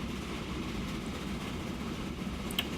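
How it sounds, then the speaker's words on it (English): A game train in Transport Fever rolls into a station, a steady low rumbling drone of engine and wheels that holds level throughout, with a faint click near the end. "The train heading in."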